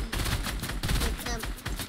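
Rapid SMG gunfire in Fortnite, a dense, continuous burst of sharp shots at close range that fills the whole moment.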